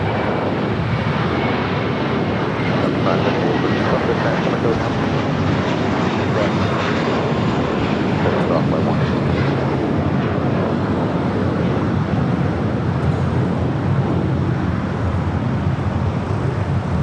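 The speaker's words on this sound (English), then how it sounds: "an A321 is the next takeoff" Airbus A321 taking off at Los Angeles LAX, a steady, loud broadband jet roar that holds evenly throughout with a faint whine riding on top.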